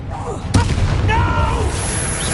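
A Bombarda spell blast from Hogwarts Legacy on PS5: a sudden sharp impact burst over a dense game soundscape, followed by a brief shimmering magical tail, with a voice speaking nearby.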